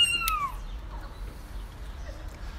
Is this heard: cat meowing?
yes